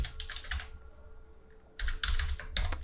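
Rapid typing of code on a computer keyboard, two quick bursts of clicking keystrokes separated by a brief pause, close and crisp, with no speech.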